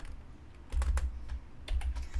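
Keys clack on a computer keyboard during Python coding, with a few quick bursts of faint, close keystrokes and brief pauses, and no talking.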